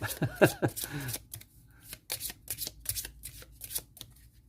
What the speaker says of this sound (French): on passe beaucoup de temps à mélanger ces paquets de cartes